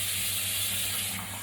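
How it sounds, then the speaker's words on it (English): Cold water runs steadily from a kitchen tap during choux pastry preparation, a continuous close hiss and gush with no talk over it. "Let's get some cold water."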